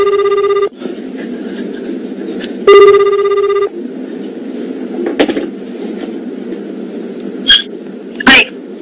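An outgoing telephone call to a fan rings twice as loud electronic ring tones separated by a pause, followed by quieter background noise and a few brief sharp sounds.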